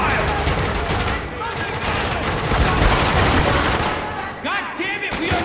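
Heavy, sustained automatic gunfire in the video game Spec Ops: The Line, loud and continuous through a close firefight, with shouting voices breaking through near the end.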